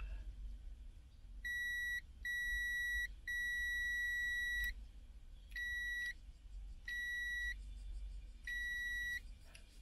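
Remote key fob for a car being tested, sounding a series of bright electronic beeps in uneven bursts, some short and some long, fairly faint against a low background hum.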